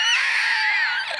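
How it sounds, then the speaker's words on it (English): A dense, high-pitched scream sound effect, several voices wailing together in a sustained chorus as a pile of hearts goes up in flames, loud and continuous for about a second before tapering off. "And you hear lots of screaming"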